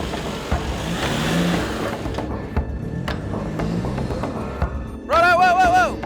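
A 4WD engine revs while climbing a steep rocky track, bursts of acceleration rising and dropping between pauses, ending in a loud, strained rev close by, with people talking in the background.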